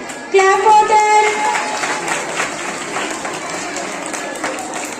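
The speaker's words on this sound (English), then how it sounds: "Clap for them." An audience at a school annual function applauds the students, a burst of clapping rising sharply and settling into steady applause, with a voice over a speaker system and a short tonal sound at the start.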